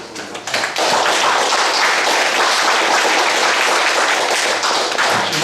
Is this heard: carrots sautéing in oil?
no